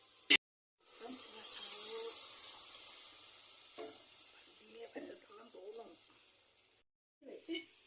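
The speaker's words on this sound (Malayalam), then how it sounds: "ഇനി നമുക്ക് മാവ് ഇതിനകത്തോട്ട് ഒഴിച്ചു കൊടുക്കും" Rice batter for kalathappam poured into a hot pan of fried coconut and shallots erupts into a loud, close sizzle that slowly fades, with a sharp clink before and brief talk near the end.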